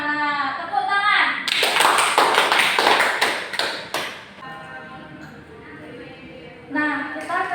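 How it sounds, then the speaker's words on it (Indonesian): Schoolchildren in a classroom clapping hands together in a quick burst of several sharp, close claps lasting a couple of seconds, with a teacher and children talking before and after. "Tepuk tangan"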